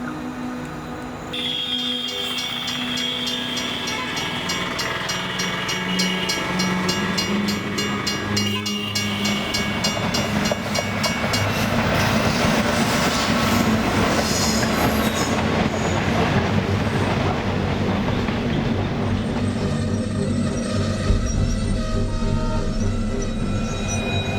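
A train rolls past near a railway station, loud and close, with a steady rumble, clattering wheels and high squealing for the whole stretch.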